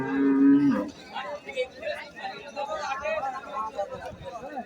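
A cow lets out a loud, low moo, followed by the murmur of a crowd and livestock noise at a busy outdoor cattle market in Bangladesh.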